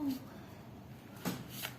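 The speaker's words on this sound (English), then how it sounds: "let's shuffle the cards and see" Quiet shuffling of a deck of tarot cards, a couple of soft riffling bursts with faint background noise.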